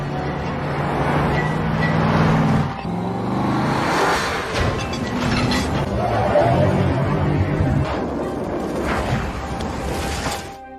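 Film car chase with vehicle engines roaring and traffic-like rumble, loud and continuous throughout, mixed with crowd babble and scattered voices under the motor noise.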